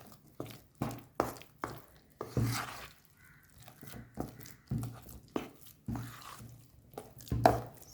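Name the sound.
mixing eggless Christmas cake batter with nuts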